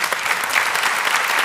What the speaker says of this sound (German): einen großen Applaus noch einmal